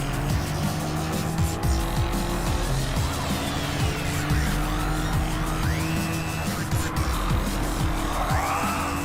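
A Porsche 930 race car howls around a track with the engine revving hard while its tires squeal through repeated oversteer slides, loud and continuous.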